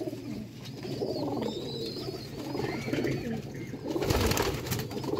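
Pigeons coo in soft, repeated throaty calls close by, overlapping at a low level, with a brief rustle of wings or movement near the end.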